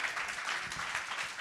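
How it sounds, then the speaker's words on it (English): Audience applause for the guests of a music industry masterclass panel, a steady, fairly soft wash of many hands clapping together without pause. "can we get a round of applause for our guests today?"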